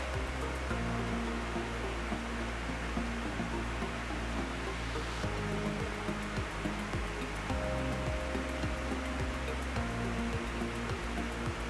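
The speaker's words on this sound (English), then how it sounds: "this fan is just completely drying it out straight away" An electric fan blows steadily through makeup application, giving a constant broadband whoosh of moving air that stays even and fairly quiet from start to finish, with no voices.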